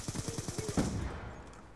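A rapid burst of automatic gunfire from Call of Duty Black Ops 2, about seven quick shots followed by one louder report and a fading tail, with no talk.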